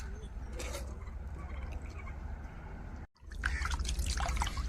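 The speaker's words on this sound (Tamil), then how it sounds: "இப்போ நம்ம கருவாட்டை நல்லா அலசி எடுத்துக்கிறோம் பாருங்க" Salted dried fish is rinsed by hand in plain water, giving close sloshing, trickling and dripping sounds with a brief pause before splashier swirling, and no talking.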